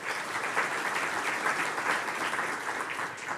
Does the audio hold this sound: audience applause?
yes